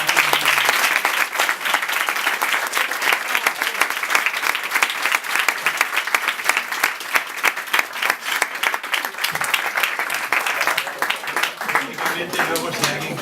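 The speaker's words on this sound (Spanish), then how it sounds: "vamos a dar un aplauso" Sustained applause from an audience at a book presentation, dense steady clapping filling the room for about thirteen seconds with a brief dip near the end.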